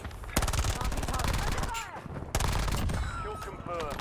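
Automatic gunfire in the video game Warzone, with rapid close bursts of rattling shots that go on almost without pause, while voices talk over the shooting.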